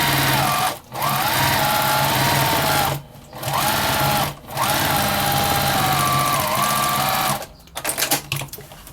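An electric sewing machine stitches quilting lines through a simple fabric potholder, running in four steady buzzing bursts separated by short pauses, then a few quick uneven stitches at the end.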